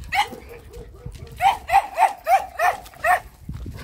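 A schipperke dog barks close by, one sharp bark followed by a quick run of six or seven yaps in a rhythmic burst, with a faint voice nearby.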